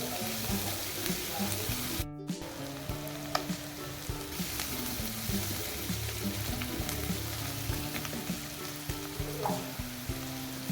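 Chopped vegetables sizzle steadily in a hot pan after a pinch of salt goes in for masala upma, a continuous bright crackle with occasional stirring scrapes and a brief clatter near the start.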